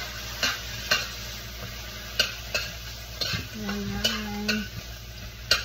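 Eggs sizzle in a pan while a utensil scrapes and taps against it in a series of sharp stirring strokes over a steady frying hiss; a voice speaks briefly.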